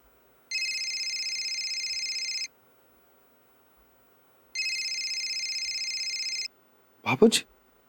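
A phone rings in two long electronic bursts separated by a pause, followed by a short clatter as it is picked up.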